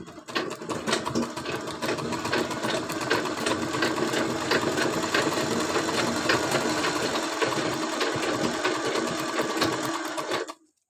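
A sewing machine stitches falls onto the edge of a saree, a loud, steady, fast mechanical whirring that runs without a break and cuts off abruptly near the end.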